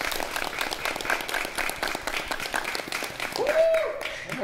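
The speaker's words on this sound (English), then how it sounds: "let's just clap it up for them one more time" A reunion-show studio audience applauding, a steady wash of clapping close by that holds throughout and swells slightly near the end, with voices mixed in.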